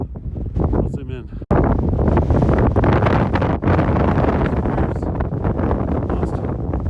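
Cold, bitter wind buffets the microphone on the mountain top at Mt. Rogers, a loud steady roar with someone talking over it.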